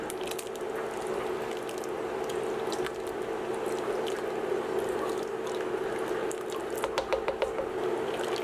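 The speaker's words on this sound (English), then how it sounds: "give this a good stir" Seafood chowder in a pot is stirred with a spoon, giving soft repeated scraping and liquid squishing sounds over a steady low hum, close and fairly quiet with no voices.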